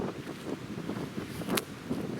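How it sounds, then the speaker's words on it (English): Cold mountain wind gusting hard against the microphone, a brief burst of rough, rumbling buffeting with no voices. "It's so cold and windy up here in the mountains."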